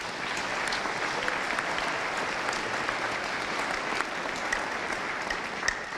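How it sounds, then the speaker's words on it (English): An audience at a county all-star band concert gives a steady, sustained round of applause, an even wash of many hands clapping at moderate distance with no talking. "So let's give them a round of applause."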